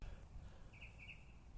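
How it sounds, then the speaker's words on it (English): Outdoors, a bird gives a few faint, thin chirps over steady low background noise, with no talking. "there's a lot of birds out here"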